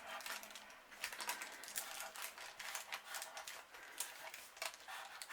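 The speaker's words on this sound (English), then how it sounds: "Sorry if you can hear the paper underneath, it's grease proof." A brush works over greaseproof paper laid underneath, giving a steady papery rustle and scratchy strokes throughout, fairly close and moderately loud with no talk.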